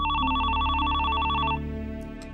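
A telephone rings in a steady, rapid trilling bell pattern for about a second and a half at moderate loudness, then stops, leaving a low room hum and faint clicks.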